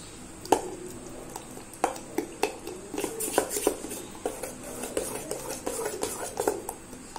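Appam batter stirred and mixed in a metal vessel, a spoon scraping and clinking against the sides in irregular strokes with soft wet squishes, close and fairly quiet.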